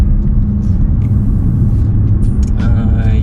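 A taxi car drives along a road in Odesa, heard from inside as a loud, continuous low engine and road rumble that stays steady throughout.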